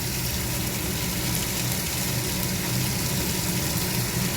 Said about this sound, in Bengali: মাছটা একটুখানি হালকা ভেজে নেবো